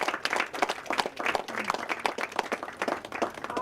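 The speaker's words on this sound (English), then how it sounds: "give a round of applause to all of yourself for showing up today" Conference audience applauding at an industry–academia tech event, a dense wash of many hands clapping steadily and moderately loud across the whole stretch, with no voices over it.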